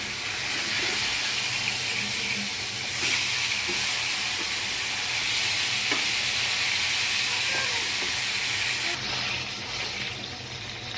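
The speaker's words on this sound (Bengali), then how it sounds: "মাছটা এক সাইড লাল লাল করে ভাজা হয়ে গেছে, এখন আমি মাছটাকে উল্টিয়ে দেব" A piece of rohu fish fries in oil in a pan, browned on one side and about to be flipped. It gives a steady, fairly loud hissing sizzle with occasional light clinks and no talking.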